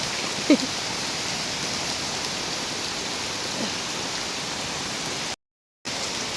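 Steady, dense rain hisses without a break, a continuous heavy downpour heard from inside a cattle shed, with no voices, cut off by a brief silent gap near the end.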